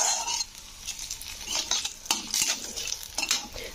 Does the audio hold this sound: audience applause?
no